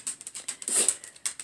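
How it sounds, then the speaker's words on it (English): Dog claws tap on a hard floor as the dogs mill around, a quick irregular run of light clicks close by with a brief scuffle in the middle. "And then they mill around, so you hear all the tap, tap, tap, tap."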